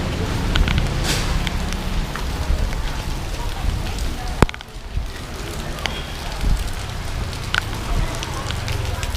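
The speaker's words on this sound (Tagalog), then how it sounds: "Nabutan kami ng ulan." Steady rain pours down outdoors near a Divisoria market area in Manila, a dense continuous hiss with one sharp crack partway through; someone briefly calls out over it.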